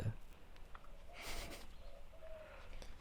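A bird calls outdoors, faint and somewhat distant, with a soft cooing quality, heard alone against quiet background noise with some light rustling.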